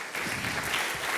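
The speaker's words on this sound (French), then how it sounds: "Sous vos applaudissements." A conference audience breaks into dense applause at the end of a presentation on hydrogen fuel cells, a brief burst of steady clapping without speech.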